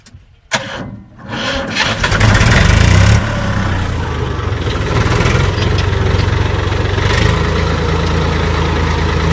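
A farm tractor engine starts after a few quiet knocks, then runs with a loud, steady, low chugging idle close by, its rumble holding evenly to the end.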